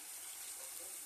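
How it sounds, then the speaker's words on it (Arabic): Hot water is poured from a glass into a pot of cooking purslane, giving a steady close splashing pour that lasts the whole short moment with no talk over it. "باش تزيد عليها هكا نص كاس ماء سخون"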